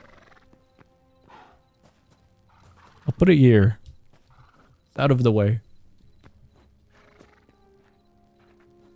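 Horse neighing in the video game Hytale, two loud whinnies a couple of seconds apart standing out over quiet game ambience, with a person speaking briefly.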